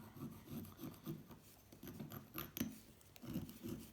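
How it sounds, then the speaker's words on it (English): A knife blade scrapes the crown of a piston from a 1984 Honda C70 motorcycle engine, giving repeated short rasping strokes in uneven bursts. The scraping is close and moderately quiet, with no talking. "let's do some scraping with the knife"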